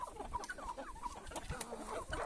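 Free-range chickens clucking near the coop door, several close, soft, overlapping clucks and short calls, fairly faint.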